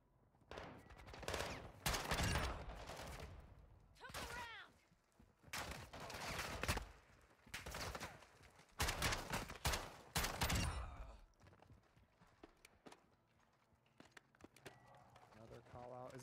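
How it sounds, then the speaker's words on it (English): Bursts of gunfire in the video game Call of Duty DMZ, set in Building 21, loud volleys and scattered shots rattling at intervals over several seconds, with people talking between and over them. "Some shots across from us as well."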